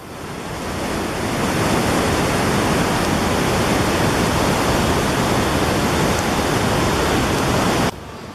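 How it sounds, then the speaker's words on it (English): A swollen rainy-season river in Peru, near Machu Picchu, rushes in a loud, unbroken roar of churning water, close and constant throughout, dropping slightly at the very end. "The fact that it was rainy season was certainly reflected in the spectacular water flows in the river."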